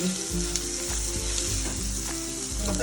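Cumin seeds and homemade garlic chutney sizzle in hot oil, a loud, close, continuous crackle with a run of rhythmic stirring thumps about every half second.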